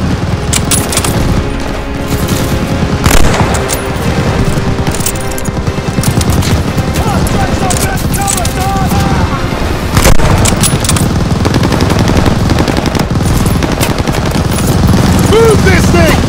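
Heavy machine-gun fire in the Call of Duty: Vanguard campaign mission Operation Tonga, with sustained bursts and explosions mixed with shouting soldiers throughout, loud and dense.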